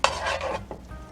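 A Monte Cristo sandwich fries in butter in a pan, a close soft sizzle with a few brief scraping stirs, no voices.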